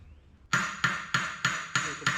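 Copper is hammered on an anvil with six sharp, ringing metallic strikes in a steady rhythm, close and clear, with no talk.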